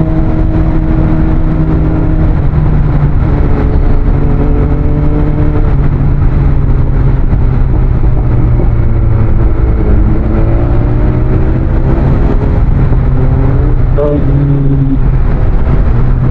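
A motorcycle engine hums steadily while riding a mountain road on Marilaque, its pitch rising and falling through gear changes, loud and close with wind rush underneath.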